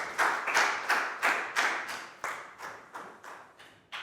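A classroom of students claps for a classmate during a Year 4 maths lesson, about a dozen rhythmic claps in steady succession, fairly close and fading slightly toward the end.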